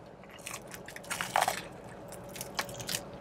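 Teeth biting into crunchy fried chicken breast, a few crisp close crunches and chewing sounds, fairly quiet with a brief louder crackle near the middle.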